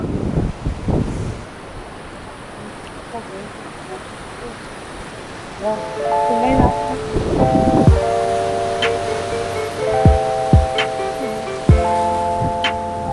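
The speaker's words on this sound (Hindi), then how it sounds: "अरे भाई साहब, कैसे लहरें आती है" Sea waves surging and breaking on the Mumbai shore, a broad continuous wash of surf with wind noise, while people talk loudly and excitedly over it for much of the time.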